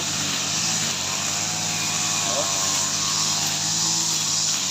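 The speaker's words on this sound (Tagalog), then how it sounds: "grass cutter na ulit tayo at kapal na yung damo." A grass cutter chews through thick grass with a loud, steady motor whine and roar that runs unbroken from start to finish.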